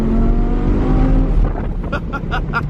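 A twin-turbo Audi R8 revs hard while spinning donuts, a loud continuous engine roar that swells and pulses, with tire and exhaust noise in rapid surges toward the end.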